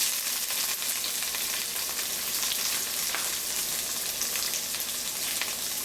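Bitter gourd frying in hot oil with popping mustard seeds and asafoetida, giving a loud, steady, close hiss of sizzling that runs unbroken throughout with no voices.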